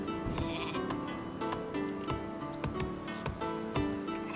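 Sheep bleating at a sheepfold in the strategy game Northgard, several short calls scattered over a busy bed of ticks, clicks and faint game ambience.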